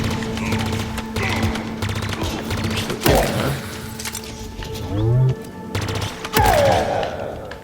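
Grenade blasts and rapid gunfire in the video game Halo Infinite, with loud bursts of automatic fire, several heavy thumping explosions and a growling creature roar in between, no talk.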